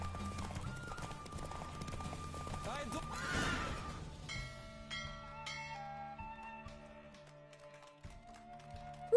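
Hooves clop in quick rhythm during a horse race in The Witcher 3: Wild Hunt while a horse whinnies, with a shout-like voice over a noisy backdrop, then the galloping fades into lighter tapping.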